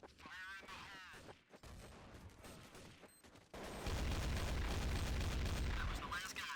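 In a bomb-defusal round of a video game, sharp gunshots and game sounds give way to a heavy grenade blast. The blast is followed by a loud, sustained rumble of explosion and gunfire.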